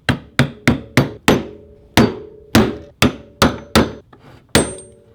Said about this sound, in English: You basically just get a flat head, two sides, and then hammer it off